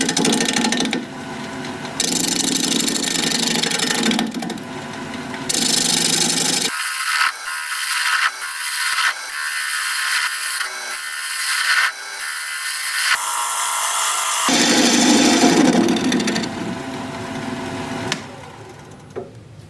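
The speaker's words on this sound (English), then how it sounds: "We're going to be turning at 750 RPM, still with 5/8" bowl gouge" Acacia live-edge bowl spinning on a wood lathe at 750 RPM, cut with a 5/8 inch bowl gouge: loud continuous scraping and shaving roar with a stretch of thinner, higher chatter midway, no talk.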